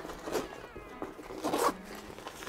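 A zipper on a OneWheel Pint travel bag is pulled open in a couple of quick rasping strokes, close and fairly soft, with no talking over it.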